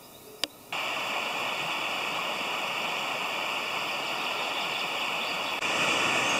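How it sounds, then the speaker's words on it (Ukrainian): Mountain stream of the Prut River rushing steadily, a loud broadband wash of flowing water that starts after a brief click and holds constant throughout. "Це той самий струмок, річка Прут."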